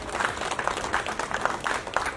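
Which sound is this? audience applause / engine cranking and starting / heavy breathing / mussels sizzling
audience applause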